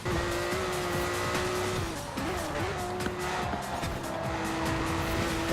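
Ferrari Testarossa racing in Forza Horizon 4, a sustained high engine whine with tire squeal, layered under constant game background sound.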